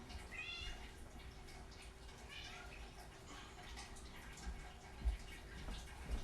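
A house cat meows in a few soft, drawn-out calls near the start and again midway, faint against a hissy, watery background.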